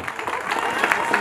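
Crowd applause at a medieval armored combat tournament: brief, bright clapping from a nearby audience, fairly even and lively.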